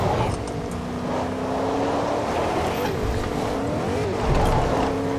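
Car driving in a video game, a steady engine drone with a rising and falling tone running throughout, getting a little louder near the end, and no talking over it.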